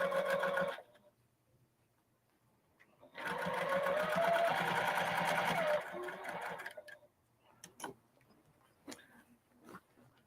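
A sewing machine stitches across handbag webbing in two runs: a short burst, then a steady whirring stretch of about three seconds, followed by scattered clicks and handling noises. Quiet and close, with no talk.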